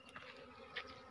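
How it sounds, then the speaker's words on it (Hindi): Honeybees buzz around a hive under a bridge with a faint, steady droning hum, the insects heard at low level and no one talking. "आज मधुमक्खी निकाल रहे हैं"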